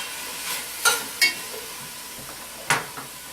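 Vegetables stirred in a hot pan: a faint continuous sizzle broken by a few sharp spoon scrapes and clinks against the pan, close by and spaced irregularly.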